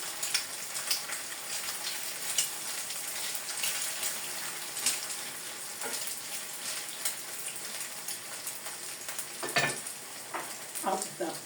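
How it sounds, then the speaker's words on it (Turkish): A potato omelette frying in a pan, a continuous close sizzle with intermittent light scrapes and taps of a utensil against the pan. "omletim iyice kızarmaya başladı"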